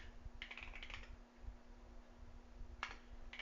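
Typing on a computer keyboard during a programming session, a short burst of quick key clicks followed by a pause and then one or two more taps, close and fairly quiet over a low steady hum.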